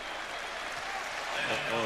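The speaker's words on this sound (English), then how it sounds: "Crowd cheering Rick Mahorn's entry into the game" Basketball crowd at an NBA game between the Philadelphia 76ers and Orlando Magic cheering and applauding as a player checks in, a continuous broad arena roar that swells slightly toward the end, with commentary voices beneath.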